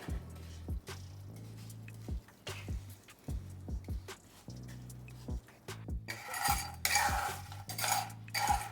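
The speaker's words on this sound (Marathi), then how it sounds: "हे बघा, मंद आचेवर चांगला डिंक भाजून घ्यायचा।" Edible gum for a winter halwa roasts in a pan over a low flame while being stirred. Intermittent spatula scrapes and knocks come at an uneven pace, and a brief burst of crackling follows near the end, quiet and close.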